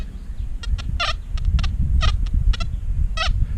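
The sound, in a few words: metal detector tone during slow sweep over round object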